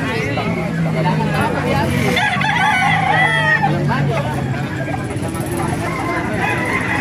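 A bulik golden gamefowl rooster crows once, close and loud, over constant crowd babble and nearby talking at a cockfighting venue.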